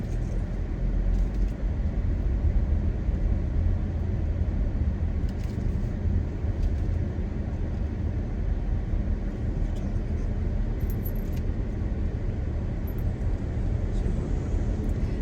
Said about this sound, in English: Joe and I are driving through Island Park, a subdivision here in Fort Myers